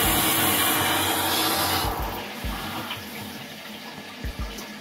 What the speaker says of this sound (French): Donc j'ouvre doucement mon arrivée du groupe. Et ça va commencer à remplir le chauffe-eau.